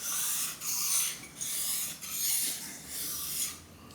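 Jointer blade honed flat on a sharpening stone, close-up rhythmic rasping strokes, about seven back-and-forth scrapes in quick succession, fairly quiet and with no talk.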